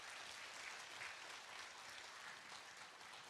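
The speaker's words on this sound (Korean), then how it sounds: "네, 박수 부탁드립니다." Steady applause from an audience at a Korean author's book concert, a continuous dense patter of many hands clapping throughout at moderate, even loudness.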